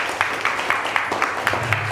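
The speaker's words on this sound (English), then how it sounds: "Let's give Brit a round of applause." An audience at an evening talk event claps at a modest level, individual hand claps landing in a loose, fairly sparse rhythm across the room, with faint talk underneath.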